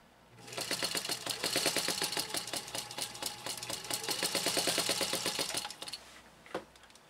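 A Singer 15-91 sewing machine stitches through eight layers of denim in a fast, close, rapid needle clatter lasting about five seconds. It slows briefly in the middle, then stops with a single click afterward.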